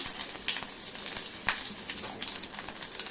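Curry leaves and cumin seeds sizzle steadily in hot oil for a festive Holi meal made without onion or garlic, a dense crackling fry with small pops throughout, close and continuous with no talking.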